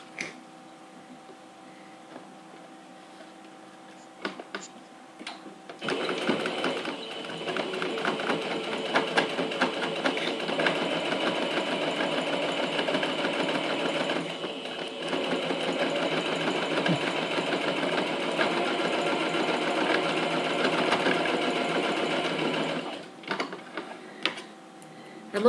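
A sewing machine topstitches a seam on a fabric pencil case with a voile window. A steady mechanical whir runs for about seventeen seconds, and brief clicks come before and after it.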